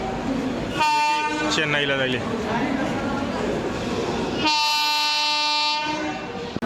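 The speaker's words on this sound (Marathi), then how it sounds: "तर ही आली आपली ट्रेन" A passenger train arriving at a station blares its horn twice, long loud tones, over the rumble of cars rolling in nearby, while a person talks briefly between the blasts.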